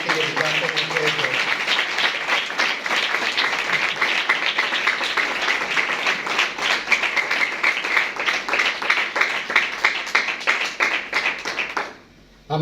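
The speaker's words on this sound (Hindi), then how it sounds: "आइए जोरदार तालियां खुदा के जलाल के लिए बजाते हैं" Sustained loud applause from a church congregation in worship, dense steady clapping filling the space for about twelve seconds before cutting off abruptly.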